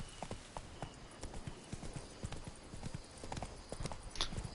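Roach, the horse in The Witcher 3, gallops with rapid rhythmic hoofbeats, fairly faint and steady under game ambience, with a brief whinny-like sound near the end.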